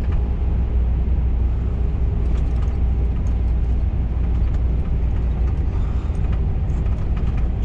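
A car driven fast on an open road, its engine droning loud and steady throughout with constant road and wind rumble, no talk.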